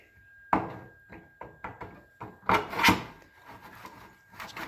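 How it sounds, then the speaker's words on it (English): A hand saw cuts through wooden crown moulding in a simple miter, giving a series of rasping strokes that start out short and evenly spaced and then run into longer, louder pulls, close by with no talking. "let's get our saw in there"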